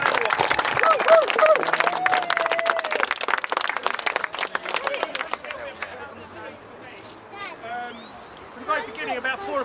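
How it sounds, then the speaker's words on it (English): A crowd at a protest march against the Croydon incinerator claps in a dense burst of applause that gradually thins out, followed by scattered voices and a few whistles. "you should all give yourselves a little round of applause"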